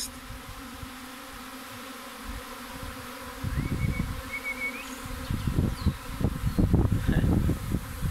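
A swarm of honey bees lands on a case near a pear tree outdoors, a dense continuous buzzing hum that swells louder and closer over several seconds, with individual bees droning past.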